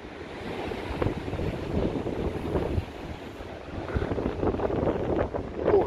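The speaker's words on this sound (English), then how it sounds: "Oh, that is windy." Strong wind buffets the microphone in a steady roar, with waves and surf rumbling underneath by the sea at Blackpool, gusting louder near the end.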